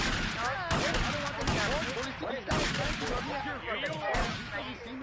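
Gunfire in GTA Vice City cracks in sharp, loud repeated shots over busy in-game chatter and shouting, with several hard bursts punctuating a constant clatter of action.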